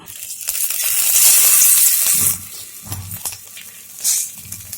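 Chicken for butter chicken hits a little hot white oil in a kadai and sizzles loudly up close, a bright hissing crackle that swells then eases, with occasional clinks and stirring scrapes.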